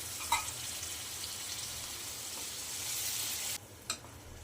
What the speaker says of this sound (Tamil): இப்போது வெங்காயம் வதங்கினதும் தக்காளி விழுதை சேர்த்துக்கலாம்.